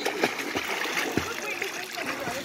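A child swims and splashes in a pool during a swimming lesson, with a series of short splashes and water sloshing while voices talk over it.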